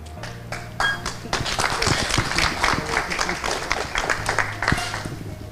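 A conference audience at a peace event breaks into applause, a dense rolling clatter of many hands that swells and holds for several seconds, with some talk and low hum underneath.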